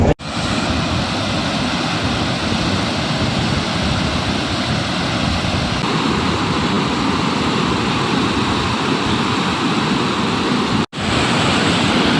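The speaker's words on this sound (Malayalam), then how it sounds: "ഈ വെള്ളം അണക്കെട്ടിന്റെ ചെറിയ സ്ലൂയിസിലൂടെ കടന്നുപോവുകയും പെരിയാറിലെ പ്രധാന കനാലിലൂടെ കടന്നുപോവുകയും ചെയ്യുന്നു" Dam water roars through a small sluice into the main Periyar canal, a loud, unbroken rush with a powerful low rumble that continues without pause and has no talk over it.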